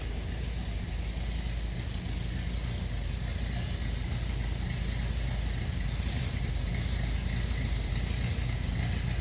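A 1954 Buick Century four-door sedan with its nailhead V8 idling, heard from behind the car as a steady low rumble that stays even throughout with no voices over it.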